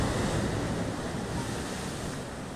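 Ocean surf washes steadily onto a West Java beach lined with coral rocks, pandanus and coconut palms, a broad continuous roar mixed with wind buffeting the microphone.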